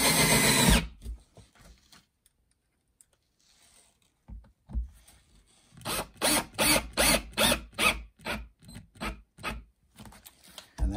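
Power drill driving screws into a frame around Turkish tiles, short bursts of whirring with pauses between, then a run of rapid repeated pulses, close and fairly faint.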